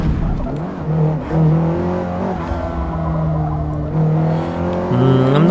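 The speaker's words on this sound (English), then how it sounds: "I'm not sure the tyre squeal is that great." Race car tyres squealing in Forza Motorsport on PC, a sustained harmonic whine that slides and wavers over a continuous engine roar, shifting pitch repeatedly and jumping up near the end, loud and close throughout.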